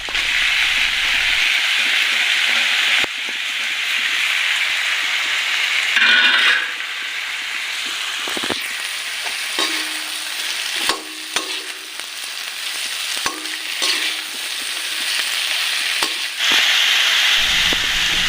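Meat and potatoes frying in a pan, a loud continuous sizzle broken by scraping stirs and clanks of a utensil against the pan, up close and with no talk.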